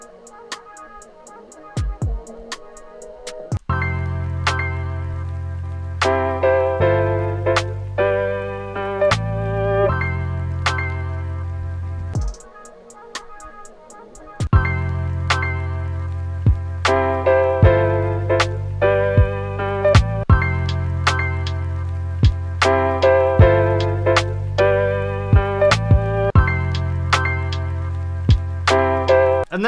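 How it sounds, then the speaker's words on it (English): Lofi drum loops run under a mellow beat with warm chords and bass, the pattern steady and fairly loud, pausing briefly twice before the groove returns. "we're going to throw in some of these drum loops"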